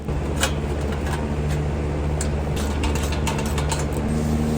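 A ratchet clicks in quick irregular bursts while tightening exhaust bolts on a Subaru BRZ, close and fairly loud over a constant background hum, with no talking.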